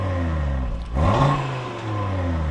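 An Audi RS3 engine revs from outside the car, a loud mid-pitched blip that climbs sharply and then settles back to a steady idle rumble.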